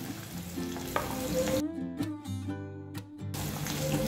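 Pointed gourd and papaya dropped into a pan of hot oil with five-spice and a bay leaf, giving a loud, continuous sizzle that briefly drops away mid-clip as the vegetables go in and stir, then surges back.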